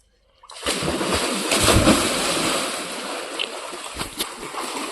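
A person jumps into water outdoors, giving a sudden loud splash followed by sustained churning and sloshing water that stays close and fairly loud, with no talking.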